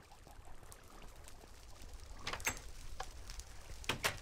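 Small waterfalls in a Minecraft world pour steadily, a soft continuous rush with a few brighter splashy bursts near the end.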